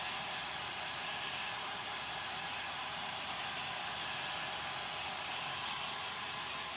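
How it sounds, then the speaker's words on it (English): A heat gun blows steadily on paint coated over a cardboard pumpkin, giving a continuous close whooshing hiss with no voices over it. "heat gun moving so I don't bubble up my paint like I just did"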